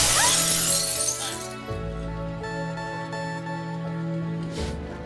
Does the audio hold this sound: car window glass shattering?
yes